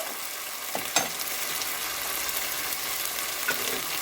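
Tomato purée sizzles and simmers in a pan for a chicken coconut salan, a continuous soft crackling fry with a few small pops, heard alone at close range.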